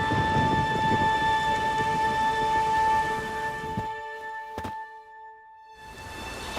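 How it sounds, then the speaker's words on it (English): Steady rain falls through a stormy scene in The Witcher 3: Wild Hunt, with low rumbling thunder beneath. The downpour cuts out abruptly near the end, leaving a brief sharp thunk, then the rain returns. "There's no point standing here in the rain."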